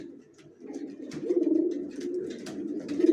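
A male racing pigeon coos close by to attract a mate, a soft, throaty run of repeated rolling coos that swells louder toward the end.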